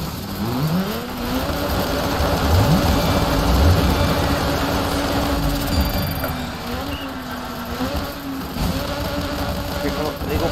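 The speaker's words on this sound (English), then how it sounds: "My engine's spiking up." Rally car engine in DiRT 3, a steady droning whine that rises and dips in pitch as the revs climb and fall, loud and continuous beneath someone talking.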